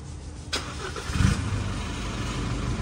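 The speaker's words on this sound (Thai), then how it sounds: "อ่าลองสตาร์ทฟังเสียงดูไหมพี่ เดี๋ยวพี่ลองสตาร์ทได้เลยนะ" A 2023 Isuzu pickup truck starts by push button with the clutch pressed: a sharp click, a short cranking catch, then a steady low idle rumble close by.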